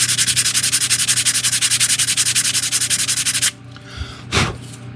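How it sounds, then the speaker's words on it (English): Sandpaper rubs back and forth over putty on a wooden 1:100 scale ship model hull in a fast, even rasping rhythm for about three and a half seconds, loud and close, then stops, followed by a brief soft brush. "then we sand it for the final time"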